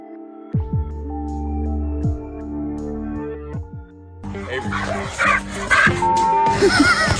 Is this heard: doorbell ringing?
no